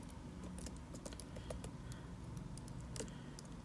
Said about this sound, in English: Now we just type in the second equation with x1